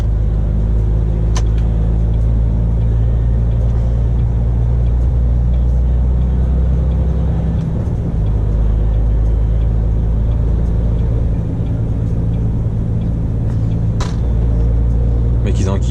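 A car drives along a foggy motorway with a steady, loud low rumble of engine and road noise and a few faint clicks, and a voice talks over it.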